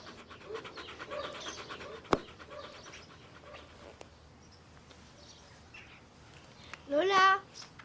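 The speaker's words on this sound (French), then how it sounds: "Quel beau chien tu as là." A dog pants softly in quick rhythmic breaths, fairly close, before a sharp tap and a brief higher-pitched chirp near the end.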